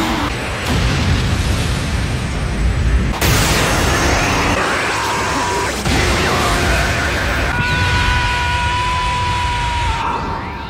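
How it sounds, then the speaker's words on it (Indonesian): In a Dragon Ball anime scene, the android Cell Max explodes in a loud, sustained roar of blasts and rumbling booms, with bursts and shrill ringing tones layered over the din. "Cell Max pun meledak"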